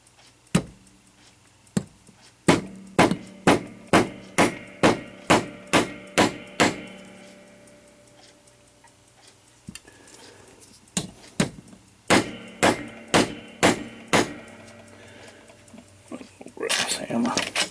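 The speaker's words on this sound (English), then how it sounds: "Try to pound this flat." Sharp hammer blows pound a small brass bushing flat while a 1919 Gilbert mantel clock is being repaired. The blows come in steady rhythmic runs of close, loud taps, then pause before further bursts.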